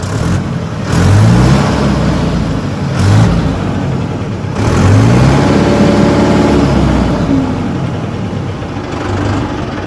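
A Mahindra Yuvo Tech Plus 575 4x4 tractor diesel engine rumbles loudly up close through its silencer, idling with several short rising revs in a steady throbbing drone.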